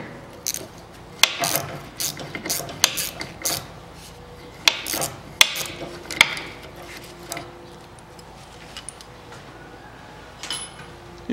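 Ratchet and hex-key work loosening a front stabilizer link nut on a 2003 Toyota Harrier, heard as scattered sharp metallic clicks and clanks in bursts, with quieter tool handling between them and no talk.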